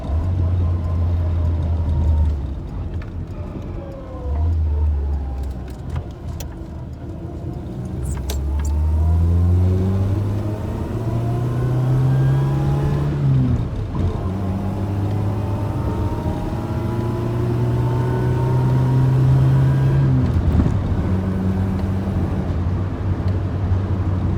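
An Austin Allegro 1300 Super engine runs steadily while driving, its low hum rising and falling through gear changes, with a few faint clicks and rattles from inside the car.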